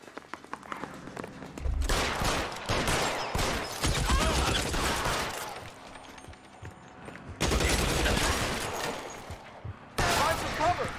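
Gunfire in a shootout in the video game L.A. Noire: bursts of loud shots in clusters separated by brief lulls, close and sharp, with a voice talking at times between the volleys.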